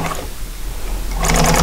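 A sewing machine runs steadily close by, stitching bias-cut greenhouse upholstery fabric for a boxed T cushion, with a brighter burst of needle clatter toward the end.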